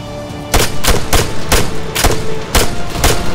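Machine gun fire in the Arma 3 military game: loud, close bursts of rapid shots in several clusters, each a string of sharp cracks, with no one talking.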